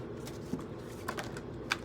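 Tarot cards being shuffled by hand during a reading, a soft, quiet riffling with a few faint ticking clicks scattered over a low background hum.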